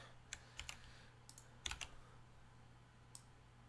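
Sparse keystrokes on a computer keyboard come in small clusters with pauses between, close-miked but faint, over a steady low hum in a quiet room.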